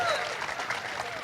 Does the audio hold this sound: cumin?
no